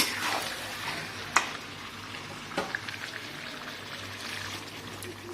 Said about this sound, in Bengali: দেখুন পানি দিয়ে দিচ্ছে